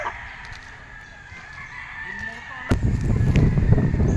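A Red Kelso gamefowl rooster crows at a gamefarm, a drawn-out call heard at moderate distance, followed by louder outdoor rustling and handling noise close to the microphone.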